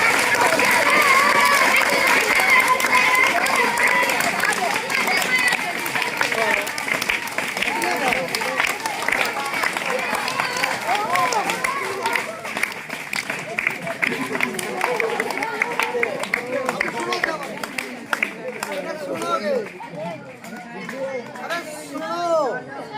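An audience claps loudly at a street magic show where ten-rupee notes are turned into hundred-rupee notes; dense applause opens strongly, then thins and fades while someone talks over the crowd.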